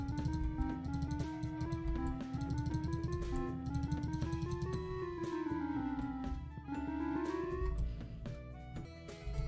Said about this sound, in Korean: 원래 플루트 블록은 이런 소리가 나거든요.